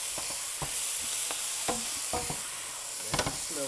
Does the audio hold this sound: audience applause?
no